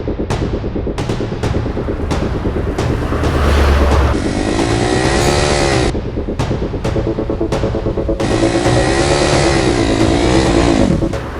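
Cartoon car and motorbike engines in a toy chase, with throbbing low rumbles, rising and falling revs and two sustained high-pitched whining passes, loud and continuous.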